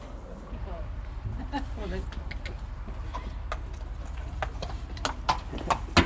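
Hooves clip-clop in an uneven, steady rhythm over a low background rumble, with occasional sharper knocks and faint voices nearby.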